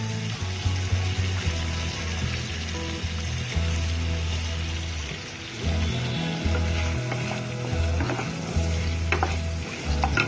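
Ginger paste fries in a pan for Gobi Manchurian, a loud continuous sizzle under low rumbling hum, with a brief dip midway and scattered stirring clicks later on; no voices.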